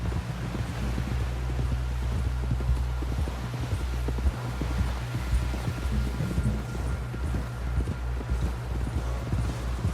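Horse hooves clip-clopping steadily in Red Dead Redemption, a close rhythmic trot over dirt with faint wind and rustle around it and no voices.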